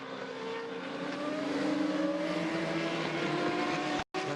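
A FormulaV race car at the Hungaroring drives past with a steady engine drone at moderate loudness that holds for about four seconds, then cuts off abruptly just before the end.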